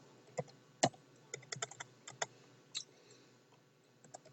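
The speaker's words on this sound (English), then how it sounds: "I've typed that in." Keystrokes on a computer keyboard, a quiet irregular run of separate clicks with short pauses, close by with no talking.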